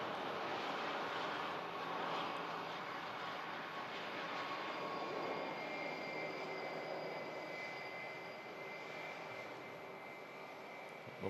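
Lufthansa Airbus A321 jet arriving at an airport from Frankfurt, its engines giving a broad continuous roar that slowly shifts in tone as the aircraft passes, fairly distant and steady with no talk.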